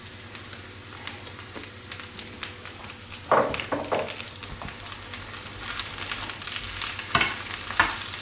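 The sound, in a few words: mushrooms frying in olive oil being stirred in pan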